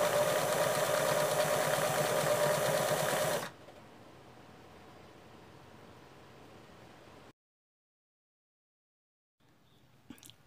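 A sewing machine stitching a narrow, tight zigzag on a children's rug, a loud steady mechanical whir for a few seconds that drops to a quieter hum, then cuts to silence before faint handling noise.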